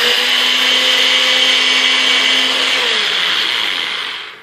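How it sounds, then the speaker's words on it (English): Nutri Bullet blender with its flat blade grinding whole chia seeds, a loud steady high-pitched whir with a motor hum that holds for about four seconds, then begins to wind down at the end. "I use the flat blade that comes with the Nutri Bullet and I just grind them"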